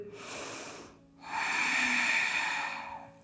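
Two audible breaths during a yoga exercise: a short airy exhale, a pause, then a longer, louder inhale drawn through the nose, close to the microphone with no talking.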